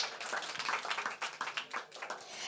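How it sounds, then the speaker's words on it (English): A small group at a youth land rights panel claps steadily, a patter of many hands at moderate volume that keeps going without voices. "give a round of applause"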